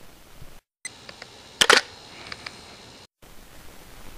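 A camera shutter fires once, set to spot metering at a shutter speed of about 1/400 of a second. It is a short, sharp double click in the middle of a quiet, hissy room tone, with brief dropouts to silence on either side.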